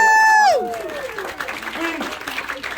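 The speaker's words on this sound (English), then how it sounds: "give Tristan a huge round of applause, everybody." Audience applause and light cheering follow a mind-reading magic trick on stage, starting right after a voice and continuing at moderate level with mixed crowd noise.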